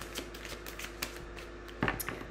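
Tarot cards are shuffled at close range, soft papery riffles and taps in a quiet room with a sharper burst of card noise near the end, no voices.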